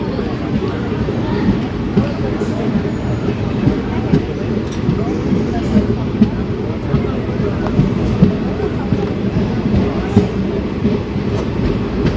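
The West Coast Superfast Express sleeper train runs on the rails toward Renigunta, a continuous close rumble with light clicks and occasional high squeals, while a voice talks over the noise.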